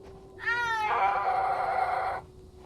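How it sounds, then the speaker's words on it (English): A snow leopard call from a video game, a single snarling, cat-like yowl that rises sharply and then holds as a harsh, steady wail for nearly two seconds. It is heard alone, with no talk over it. "the snow leopard still sounds like an angry cat being given a bath"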